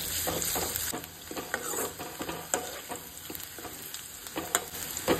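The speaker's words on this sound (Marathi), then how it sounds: "कांदो आनी बरो गोल्डन ब्रावन जाये मेरेन हें सगळें आमी आतां बरें भाजून घेवया." Onion, garlic and chilies fry in a pan with a steady close sizzle and crackle, broken by repeated stirring scrapes and taps.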